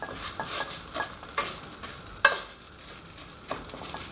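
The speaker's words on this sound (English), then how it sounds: "What we're trying to do is toast the orzo here." Orzo toasts in butter in a pan for garlic butter shrimp, giving a soft, close sizzle broken by light scrapes and taps as it is kept moving, with no voices.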